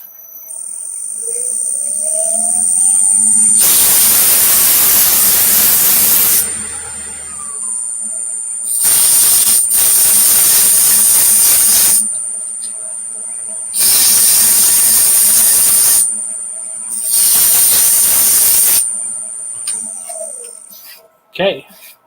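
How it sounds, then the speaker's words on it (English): Four long bursts of harsh, rushing sanding hiss against wood spinning on a lathe, with a steady high whine from the machine running throughout. "I'm going to run some sandpaper across it really fast."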